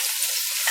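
Roughly chopped red onions hit hot oil in a pot, giving a brief, steady hiss and sizzle with no talk.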